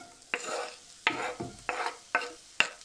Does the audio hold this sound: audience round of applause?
no